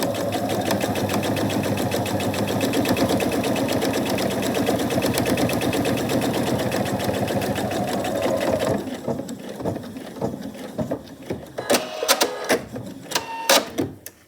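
A sewing machine with a quarter-inch presser foot runs in a fast, steady stitching burst while sewing a pocket seam on a reversible tote bag, then stops and gives way to scattered clicks and handling noises.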